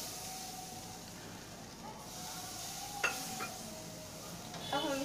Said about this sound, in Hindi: अब हम इसे लगातार चलाते हुए भुनेंगे।